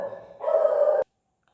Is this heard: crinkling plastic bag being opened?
no